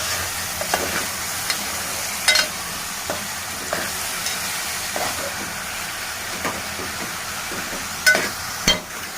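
Eggplant and cauliflower curry stirred in a pan, with a steady close sizzle and hiss broken by occasional sharp scrapes and clinks of the spoon against the metal.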